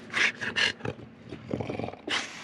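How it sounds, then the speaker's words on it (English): A dog on a sailboat growls in several short, rough bursts that sound close and fairly loud. Some are deep and rumbling, and others rise into harsher snarls, with brief pauses between them. No one speaks. "Oh, she's growling."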